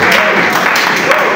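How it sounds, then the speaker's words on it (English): Church audience clapping at a music album launch, a brief dense burst of applause mixed with crowd voices. "A round of applause for Jesus."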